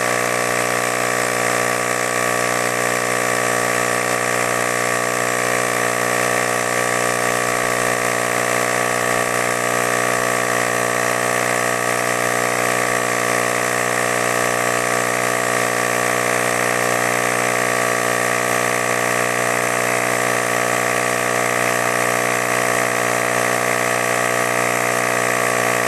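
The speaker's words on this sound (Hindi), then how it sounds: "यहाँ पर ये डिवाइस ऑन हो गया है और ये काफी फास्ट ये एयर इन्फ्लेट कर रहा है" A portable electric tyre inflator runs continuously while pumping air into a bike tyre, a loud steady mechanical hum with a rattling buzz that stays constant throughout with no talking.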